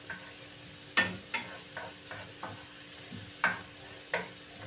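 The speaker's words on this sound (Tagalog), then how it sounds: "Kailangan lutuin natin yung ating onion at saka garlic." Onion and garlic fry in oil with a soft sizzle, punctuated by several distinct scraping stirs at irregular intervals, close and fairly quiet.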